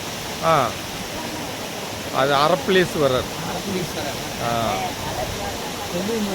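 Masila waterfall in the Kolli Hills roars steadily as a constant broad wash of falling water beneath voices of people talking close by.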